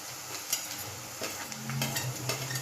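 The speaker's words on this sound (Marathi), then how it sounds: "हे असं कांदा आता भाजत आलाय." Chopped onion frying in a pan with turmeric, sugar and salt, a soft steady sizzle with occasional stirring scrapes and light clinks, close and quiet, with no talking.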